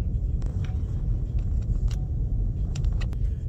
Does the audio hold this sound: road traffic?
yes